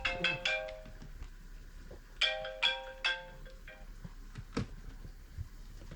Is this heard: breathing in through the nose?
no